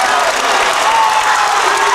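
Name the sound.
Marshfield fans applauding a long three-pointer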